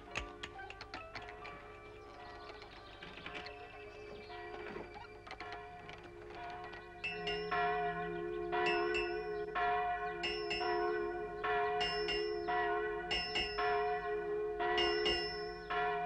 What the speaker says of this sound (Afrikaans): En ek hoor klokke lui